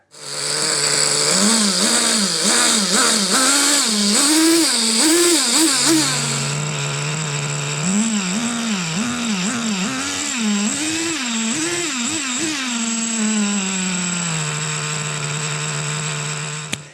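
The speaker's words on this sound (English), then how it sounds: "I just got to get a tune on this engine." A Traxxas T-Maxx 3.3 nitro RC truck engine buzzes loudly and continuously at high revs, its pitch surging up and down repeatedly as the throttle is blipped, then settling lower.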